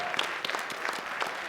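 Audience at a university panel discussion applauding steadily, a dense patter of many hands clapping at moderate loudness with no voices on top.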